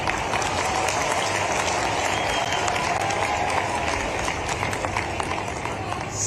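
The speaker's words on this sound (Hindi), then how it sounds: "ऐसे में ताली इतनी कम बजे तो मजे ही नहीं आएगा" Crowd applause at a public inauguration and foundation-stone event in Shujalpur, Shajapur district, a dense steady wash of clapping lasting several seconds with a faint murmur of voices mixed in.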